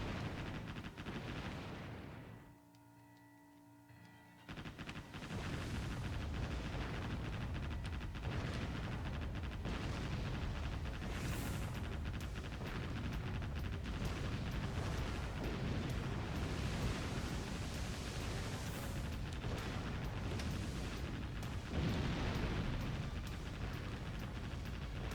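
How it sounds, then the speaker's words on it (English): Warship Gunner 2 naval bombardment of an airbase: dense, continuous booming gunfire and explosions roll on for the length of the clip, loud and close, with a brief lull early on before the barrage resumes. "I'm pretty sure I'm bombarding the airbase."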